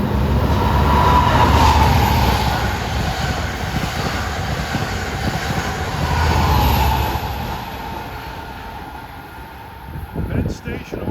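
Long Island Rail Road train 566, running between Oyster Bay and Penn Station, passes on the Main Line with a loud, sustained broadband rumble that swells twice and then eases toward the end.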